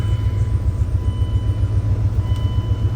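An old Dodge car, recently revived and still rough with weak brakes, drives along with its engine giving a steady, close low rumble throughout, with no one talking.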